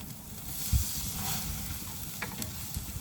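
Meat sears and sizzles on an outdoor grill in the wind, a steady soft hiss with a low thump and a few faint clinks, no voices.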